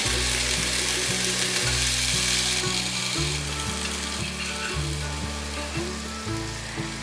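Eggplant rings stuffed with a vegetarian filling pan-frying slowly, a soft, constant sizzle running beneath louder background music with a repeating melodic pattern.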